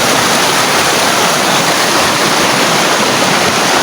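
A flowing stream rushes loud and close, a dense continuous wash of water with no breaks.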